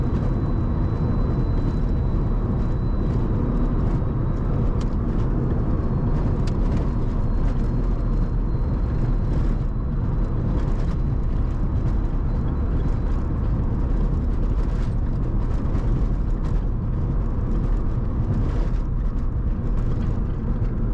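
A Mazda RX-7 FC rotary engine held at high RPM, with a dense, constant loud roar and drone that stays steady throughout and never drops back to idle, close up, with no talking.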